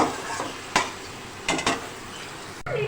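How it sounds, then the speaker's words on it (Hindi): Onions frying in a pan for pasta sauce, a steady close sizzle broken by a few sharp scrape-and-stir knocks from a utensil, with no talking. "अब हम इसे खूब अच्छी तरह फ्राई करेंगे बाकायदा, ये खूब अच्छे से सॉफ्ट हो जाए।"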